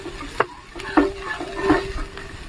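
Onion and capsicum frying in a pan for a chapathi egg roll filling, with a soft sizzle under several distinct spatula scrapes and taps against the pan, close and moderately loud; no voices.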